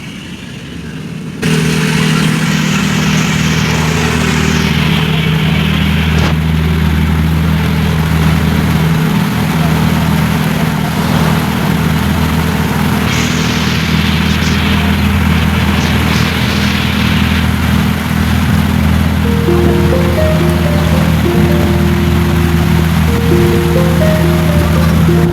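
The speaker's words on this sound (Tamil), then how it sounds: "இப்போ நாம் வந்து கவர்மெண்ட் போட்டில் தான் போய்கிட்டு இருக்கோம்." A government passenger boat on the Alappuzha backwaters runs with a steady, loud engine drone and a constant rumble of water throughout, with faint tonal sounds near the end.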